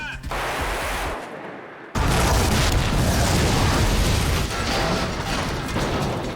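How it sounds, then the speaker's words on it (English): A loud miniature-model film-effects explosion cuts in after a brief quiet gap, followed by a sustained roaring, crackling fire rumble that keeps going. "we have explosions and fire"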